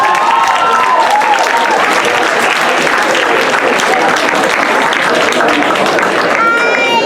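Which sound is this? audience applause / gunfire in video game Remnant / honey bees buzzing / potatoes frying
audience applause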